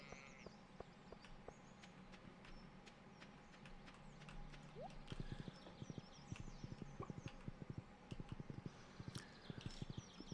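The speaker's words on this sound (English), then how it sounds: "So, we're gonna go ride the horse." A horse ridden in the Stardew Valley farming video game clip-clops in a steady, soft patter of hoofbeats over quiet ambient game sound, with no talk.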